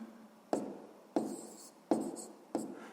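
Handwriting on paper while solving a sixth-grade math exercise: four separate pen or pencil strokes, each a short scratchy burst that fades, heard close in a quiet room.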